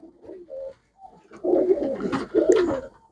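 A prized white-eyed domestic pigeon coos in deep, throaty bursts close by, two longer rolling calls after a few short soft notes, with no talking.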